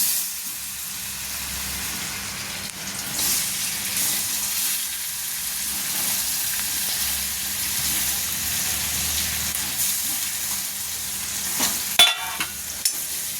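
Paneer cubes fry in a pan for paneer butter masala, giving a steady sizzling hiss throughout with a few louder scraping stirs near the end, heard close and with no talking.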